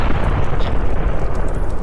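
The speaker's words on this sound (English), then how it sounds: "as you're leaving, you could hear an explosion" A loud, dense explosive roar fills the whole stretch, a continuous low rumbling blast with no pauses, heard as a house blows up somewhere behind people driving off in trucks along a desolate road.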